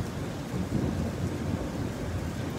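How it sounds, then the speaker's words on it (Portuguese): Thunder rumbles low and steady through spring rain at dawn in São Paulo, a continuous deep roll blended with the hiss of rainfall, fairly close and loud, with no voices. "Aqui é uma região que troveja bastante"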